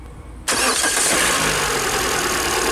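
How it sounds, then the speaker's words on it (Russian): A 2013 Peugeot 408 with a 1.6 litre engine starts after a brief quiet moment, with a quick crank and the engine catching into a loud, steady idle close by. "Запуск двигателя."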